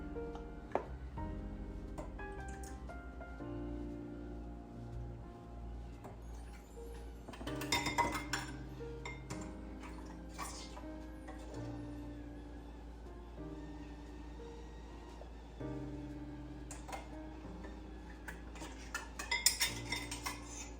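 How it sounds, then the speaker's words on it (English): Glass jars of orange marmalade made in an Instant Pot get their metal lids fitted, giving scattered light clinks and taps of metal against glass, with brighter clusters of clatter midway and near the end over a quiet background. "we're going to get the lids on here."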